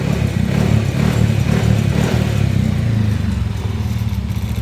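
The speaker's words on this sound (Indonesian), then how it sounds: "Ini motor sudah nyala, masalah sudah teratasi" A Yamaha NMAX scooter engine runs steadily at idle after being fixed from a no-start fault, a close, loud, even chugging with constant mechanical clatter and no one talking.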